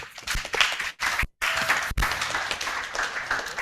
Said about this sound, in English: Please, can my panelists have a very big round of applause?